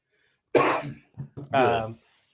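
A woman gives a cough, then a few short throat-clearing bursts, close and fairly loud, ending in a longer rasping cough.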